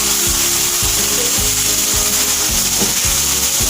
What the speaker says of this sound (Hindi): आधा किलो हमारे मटर, 1 किलो हमारा कीमा बड़े रोल में मिक्स करेंगे।